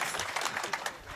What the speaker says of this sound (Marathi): टाळी वाजवा टाळी टाळी